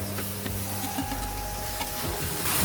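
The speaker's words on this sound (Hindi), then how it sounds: "प्याज अच्छे से फ्राई हो गया है। अब हम इसमें मैरिनेट किया हुआ वेजिटेबल सब डालेंगे" Marinated vegetables tossed into a pan of frying onions for veg biryani, giving a steady close sizzle with faint stirring and scraping, no talking.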